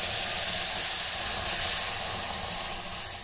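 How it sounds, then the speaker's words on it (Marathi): Milk pours into a hot pan of roasted vermicelli, raising a loud, close, steady hiss of steam that slowly fades over a few seconds, with no talking. "आता याच्यामध्ये दूध ओतून घेऊ."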